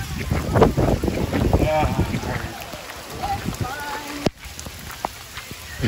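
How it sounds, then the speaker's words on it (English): Light rain sprinkles outdoors at Epcot, a soft patter mixed with gusty wind noise on the microphone while people talk and laugh close by. "It's just a sprinkle."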